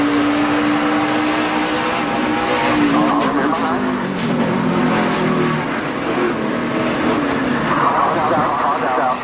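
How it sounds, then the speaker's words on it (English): Onboard audio from a NASCAR Nationwide Series stock car racing at Iowa Speedway, the engine roaring loudly and continuously with its pitch dropping as the driver lifts off the throttle, mixed with commentators talking over it. "You could hear Chase even getting out of the throttle too"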